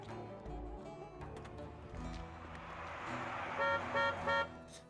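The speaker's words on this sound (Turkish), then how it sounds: "şu bizim kornayı bir çalsana ya" A truck horn sounds in three short, loud, evenly spaced blasts near the end, following a stretch of busy road and traffic noise.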